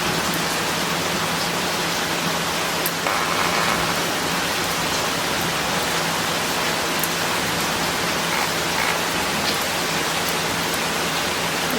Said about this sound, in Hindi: बारिश आ गई है